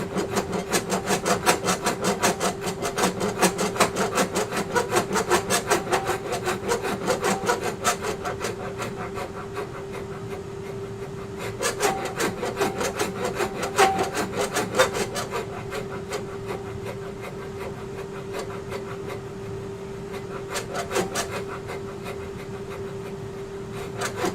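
A rasp files grooves into a spinning wood turning on a lathe, giving a loud, close, continuous rhythmic scraping over a steady motor hum, with brief pauses and repeated strokes throughout.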